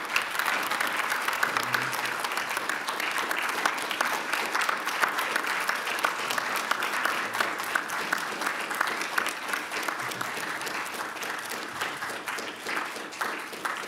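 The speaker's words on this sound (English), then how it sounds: "Give them a big applause." An indoor audience applauds at a research and innovation event, dense continuous clapping from many hands that holds steady at moderate loudness for the whole stretch, with no talk over it.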